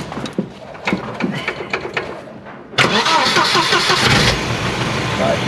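A car engine cranks and fires up abruptly partway through during an MOT check, settling into a loud, steady idle after some earlier scattered handling noises.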